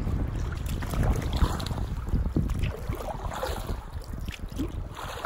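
Kayak paddling through river rapids in Northern Ontario, with a steady rush of churning water and breaking waves all around, plus gusts of wind buffeting the microphone and no talking.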